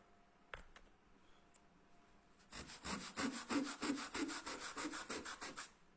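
A cleaning block scrubs rusty rails on a 1/32 Scalextric slot car track. About a dozen quick, rhythmic back-and-forth rasping strokes follow a couple of faint taps, close and fairly quiet.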